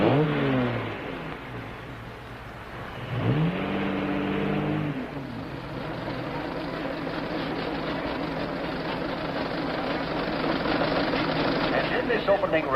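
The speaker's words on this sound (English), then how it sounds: "Here is the Stanley Steamer, ready to defend its honor against the Model T." Antique cars race, a Stanley Steamer against a Ford Model T, with old engines revving and droning steadily, rising and falling, under someone talking and background music.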